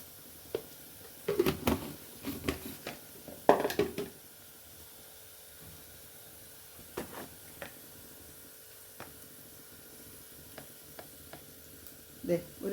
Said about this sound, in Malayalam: ഇത്രയും ചേർത്ത് നല്ലോണം മൊരിക്കണം